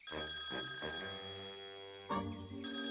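A cartoon telephone rings after a prank call is dialed, a steady bright bell tone sounding over lively orchestral music for about three seconds.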